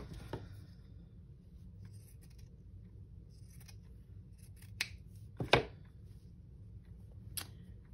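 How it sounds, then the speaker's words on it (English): Scissors snip paper for a junk journal cover, a few soft cuts followed by two or three sharper, louder snips near the end, quiet and close with no talking. "Let me see if I can cut this just smaller."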